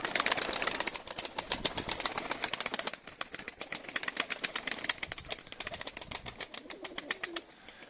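Pigeons inside a coop, a busy flutter of rapid wing claps and shuffling that comes in quick dense bursts, close and fairly loud, easing briefly then picking up again.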